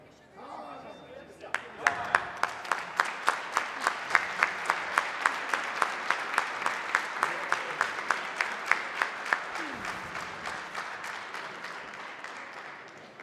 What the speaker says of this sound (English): a round of applause for our two teams